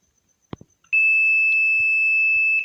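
A multimeter in diode mode, used to test an inverter welding machine, gives a single loud, steady high-pitched continuity beep that holds for about two seconds after a few faint clicks of the test leads.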